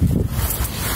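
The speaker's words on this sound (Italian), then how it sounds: "Perché poi il problema è che c'è il vento." Strong wind buffets the microphone outdoors in a continuous low rumbling roar, loud and unbroken, with no talking.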